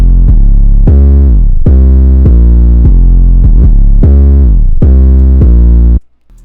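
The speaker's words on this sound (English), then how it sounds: "The next sound I added was this 808 out of Lucrative's new kit called Sonics" A heavy 808 bass pattern from Lucrative's Sonics kit plays alone in FL Studio, thick booming notes struck in a steady rhythm with gliding slides between pitches, very loud and cutting off abruptly at the end.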